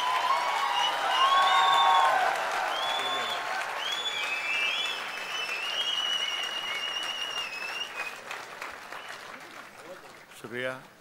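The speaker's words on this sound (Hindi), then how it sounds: "एक बार जरा जोरदार तालियों की गड़गड़ाहट करिए।" An audience at a poetry gathering in Bhopal applauds steadily for several seconds, a dense wash of clapping that gradually thins out, with a voice briefly audible near the end.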